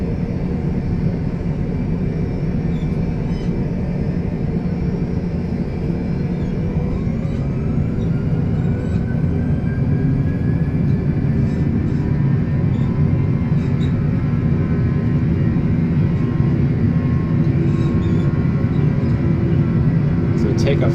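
Airliner jet engines roar steadily at takeoff thrust on runway 25 right in a flight simulator of a Hong Kong circuit, a deep continuous rumble with a rising whine laid over it.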